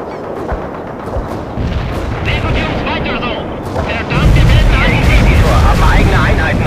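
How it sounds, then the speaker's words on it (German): Booming artillery and rattling gunfire from a World in Conflict battle mission, loud and continuous with heavy blasts swelling toward the end, under shouted German voice commands. "Wir schießen auf den Feind"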